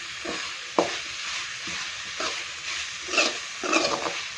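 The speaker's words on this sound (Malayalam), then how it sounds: "എല്ലാ വശത്തുനിന്നും ഇളക്കുമ്പോൾ ഈ എണ്ണയൊന്ന് തെളിഞ്ഞു വന്ന് അത്രയും സമയം ഒന്ന് വഴറ്റിയെടുക്കാം" Fish curry sautéing in oil with a spoon stirring through it, soft continuous sizzle punctuated by several distinct scrapes and knocks against the pan, close and alone.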